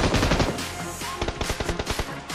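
Automatic gunfire in the mobile game BGMI: an opening burst of rapid shots, a short lull, then a string of distinct loud shots in quick rhythm, with no talking.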